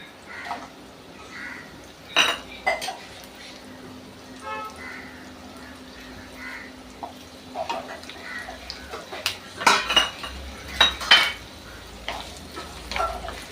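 Onion, ginger, garlic and half a coconut sautéing together in a pan for a grape vatha kuzhambu, a low sizzle under intermittent stirring clinks and scrapes, with a voice talking at times.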